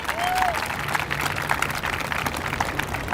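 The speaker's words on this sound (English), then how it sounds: "Let's give all of our contractors a great round of applause" Crowd applause at an outdoor plaza grand opening, a dense wash of clapping that holds steady throughout, with a faint tonal sound briefly heard near the start.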